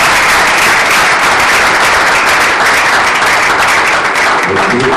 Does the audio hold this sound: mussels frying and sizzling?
no